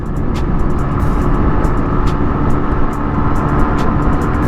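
A Yamaha RX-135 five-speed two-stroke motorcycle cruising smoothly around 60 km/h in fifth gear, its steady engine drone and road rush loud and close throughout, with no talking.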